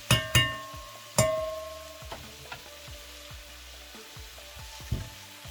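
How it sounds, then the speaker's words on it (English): Ackee and saltfish ingredients frying in a pan, with a few sharp clatters of utensils against the pan early on and then a low sizzle underneath lighter scrapes and taps. "give that a good little fry"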